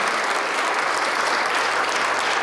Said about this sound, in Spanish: un aplauso, así es, un aplauso.